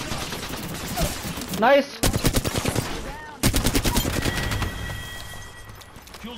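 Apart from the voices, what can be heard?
gunfire in a video game shootout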